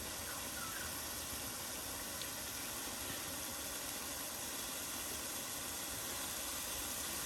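Ground spice paste of ginger, cumin, onion and garlic fries in a cooking pot outdoors in a home courtyard, a steady, even sizzling hiss that carries unchanged from start to finish, close and moderately loud, with no talk.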